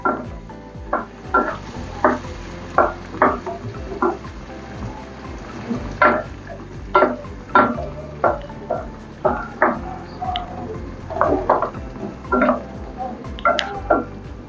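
A spatula stirs and scrapes tomato-garlic masala paste frying in oil in a pan for a Bengali pomfret fish curry, making steady close knocks and scrapes over a soft continuous sizzle.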